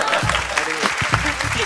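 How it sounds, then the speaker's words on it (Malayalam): Studio audience applauds on the Malayalam TV comedy show Star Magic, a steady wash of clapping with voices mixed in. "ഇഷ്ടമെങ്കിൽ നിങ്ങൾക്കൊന്ന് കൈയടിച്ചൂടെ."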